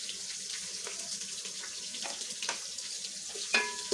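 Chopped onion fries in a pan with bay leaf and whole garam masala, a constant bright hiss of sizzling oil with light scrapes and taps from stirring, close and moderately quiet.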